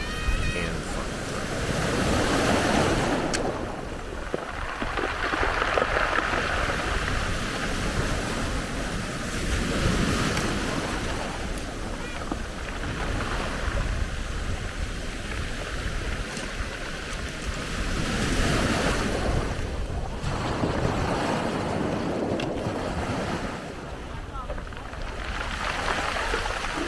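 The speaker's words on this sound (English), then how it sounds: "the waves break them down. Makes for some really great sound and fun." Ocean waves break continuously against brick-like eroding cliffs on Iki Island, a steady roaring surf with repeated surges and buffeting wind noise throughout.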